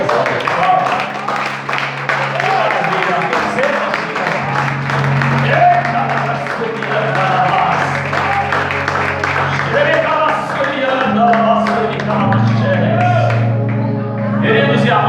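Church congregation clapping during a communion service, rhythmic hand claps blended with singing and music that carry steadily throughout, with voices prominent over the clapping.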